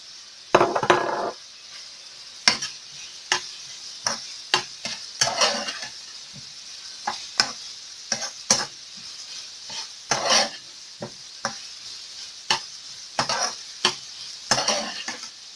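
Onions with black pepper, oregano, cinnamon, ginger and clove frying in a pan for egg spinach, a steady close sizzle broken by repeated scraping stirs at an irregular rhythm.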